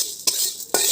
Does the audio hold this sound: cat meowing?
no